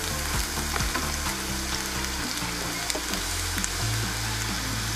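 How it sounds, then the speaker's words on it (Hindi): Mutton kofta curry masala fries in a pan with a steady, even sizzle, with melodic background music running throughout. "अच्छी तरह से भून लें। लाइट ब्राउन से इसके कलर चेंज कर लें ज़रा।"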